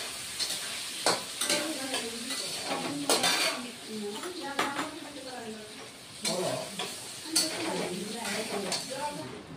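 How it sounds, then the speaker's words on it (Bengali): Potatoes frying in oil with turmeric in a home kitchen, a spatula stirring and scraping the pan in repeated bursts over a low sizzle, with clinks of metal utensils and a voice speaking at times. "এখন আমি আলুটা ভেজে নেব।"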